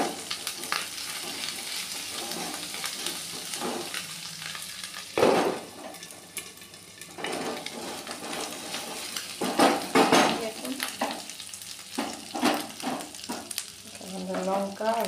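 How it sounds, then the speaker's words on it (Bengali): Ginger sizzles and spits in hot oil in a wok, a steady crackling fry broken by clinks and scrapes of a utensil against the pan, with no voices. "আদাটা তেলের মধ্যে দিলে এটা ছিটে আসে"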